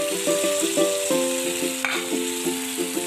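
Food browning in oil in a cooking pan, giving a steady, close sizzle that runs throughout, with tonal background music.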